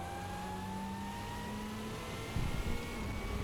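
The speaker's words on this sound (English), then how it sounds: "You get an auto blip on the downshift" Racing-game engine of the VRC Auriel 8 car, a steady mid-pitched drone that shifts tone partway through with a short throttle blip on the downshift, continuous and fairly close with no talking.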